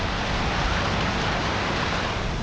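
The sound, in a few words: heavy rain with thunder at a fishing platform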